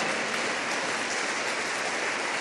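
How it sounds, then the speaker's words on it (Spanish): A church congregation claps for the Lord during a Spanish-language sermon, a dense, steady wash of applause that holds evenly throughout without any voices. "Fuerte las palmas para el Señor"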